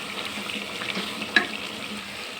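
A masala of coriander and chilli powder sizzles softly in a pan, a steady, close frying hiss with light stirring scrapes and one brief sharp clink.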